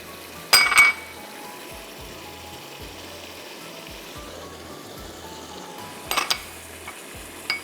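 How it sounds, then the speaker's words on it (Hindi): Nutmeg, mace and small cardamom powder go into hot oil for a biryani, heard as two brief close clinks and scrapes of a spoon or container several seconds apart over a faint low hiss, with no talk. "तो हम इसमें डालेंगे जायफल, जावित्री, छोटी इलायची का पाउडर"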